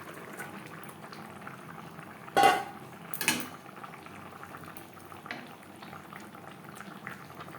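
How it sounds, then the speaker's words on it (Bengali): Ridge gourd (dhundul) simmering in a fish curry gravy, a steady low bubbling with a couple of louder clinks of a utensil against the pot midway; no talking. "2-3 মিনিট গ্রেভির সাথে ধুনুল বেশ ভালো করে ফুটিয়ে নেব"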